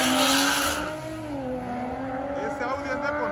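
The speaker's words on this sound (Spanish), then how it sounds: "Ese Audi anda con todo. Sale como demonio, como bala, como flecha." An Audi RS5 launches hard in a street drag race, its engine rising in pitch as it accelerates away with tire noise, while an excited Spanish-speaking commentator talks over it.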